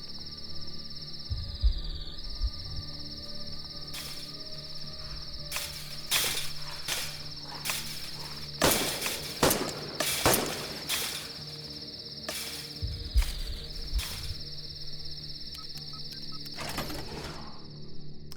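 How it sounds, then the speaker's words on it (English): In the video game The Last Stand: Aftermath, cicadas drone with a steady, high, shrill buzz that runs unbroken throughout, overlaid by occasional sharp clicks and brief rustling bursts. "cicadas, man."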